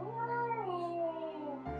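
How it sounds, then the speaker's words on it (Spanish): A cat gives a single drawn-out meow with a rising then falling tone, fairly faint and alone, lasting under two seconds. "ese ruido que acabas de escuchar es precisamente de un gato"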